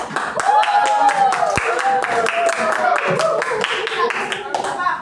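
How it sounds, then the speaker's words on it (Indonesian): Classroom group of teacher trainees clapping hands together, a sustained run of sharp claps over steady chatter and a rising voice-like tone, close and fairly loud throughout. "Tepuk tangan lagi."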